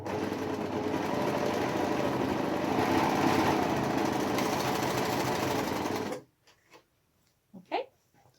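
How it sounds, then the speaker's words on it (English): An overlocker sewing machine runs a seam on the fabric of a shopping bag, giving a loud, steady, buzzing whir for about six seconds before cutting off abruptly, followed by faint handling noises and a brief voice. "And then I'm just going to overlock it"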